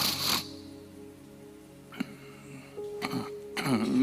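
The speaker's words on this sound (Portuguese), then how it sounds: "vocês me perdoem com o pigarro" A few short throat-clearing rasps, close and fairly quiet, spaced out over a few seconds with some soft background noise.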